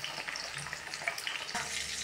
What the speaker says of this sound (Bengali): এরপর আমি তেলের মধ্যে বরবটিগুলো দিয়ে দিচ্ছি